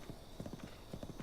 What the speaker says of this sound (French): Tu es trop fort, mon cheval, tu es trop fort.